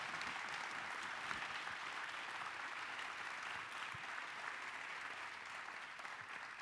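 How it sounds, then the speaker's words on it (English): Continuous applause from a crowd, steady and moderately distant, with no pauses. "now's the time to give them a round of applause"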